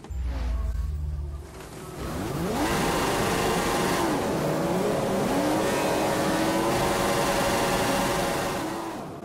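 F1 cars in the F1 2015 game launch from the start of the Chinese Grand Prix in Shanghai, a loud high engine whine that rises through several gear changes and holds steady and close.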